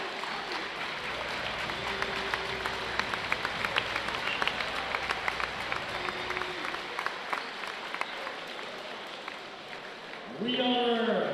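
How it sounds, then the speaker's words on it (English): An audience claps its hands at a European basketball league game, sustained dense applause filling the arena steadily, with a brief tonal swell near the end. "clap your hands"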